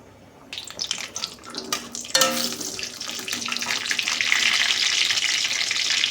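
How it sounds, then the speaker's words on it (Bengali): Cumin seeds splutter in hot mustard oil in a wok with dried chillies and a bay leaf, a rising crackle that grows into a loud, steady sizzle after a sharp clatter of ingredients going in. "জিরেতে চটচট করে ফুটছে"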